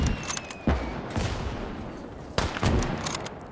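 Gunfire in the WWII game Gates of Hell sounds as several sharp shots crack out over a rumbling battlefield, with a couple of loud reports standing out near the start and again toward the end.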